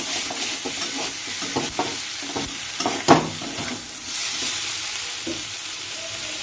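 Constant sizzling of vegetables frying in a wok, with repeated scraping and stirring strokes and a sharp clank partway through.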